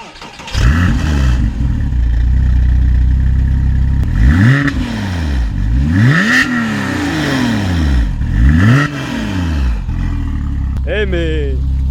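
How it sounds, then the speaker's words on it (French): A Porsche Cayman S 987 flat-six starts and is revved hard several times, each sweep rising and falling loudly up close, then settles to a steady idle with a voice briefly heard at the end. "est-ce que tu peux nous démarrer ce flat 6?"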